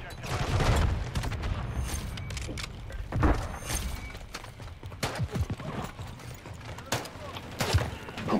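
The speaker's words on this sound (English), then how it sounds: "I was getting shot in the back" Rapid bursts of gunfire crackle through a multiplayer shooter match, volleys of shots and clattering effects running almost nonstop with a few heavier peaks.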